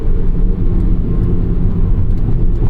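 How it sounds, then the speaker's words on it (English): A 2004 Volvo S60R's turbocharged five-cylinder engine runs at a steady, subdued level, a low rumble with a smooth whir heard from the cabin, with no talk over it. "This 5-cylinder turbo engine,"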